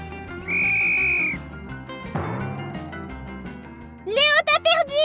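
A shrill referee-style whistle sounds a sustained blast to start a children's cheerleading team game, over busy background noise, followed later by excited children's shouts and squeals.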